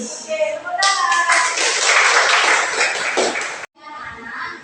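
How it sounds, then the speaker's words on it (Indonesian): Children clap together in a classroom during an Indonesian language lesson, a dense burst of hand claps filling most of the clip, cut off abruptly near the end, with voices chattering underneath. "Oke, tepuk tangan."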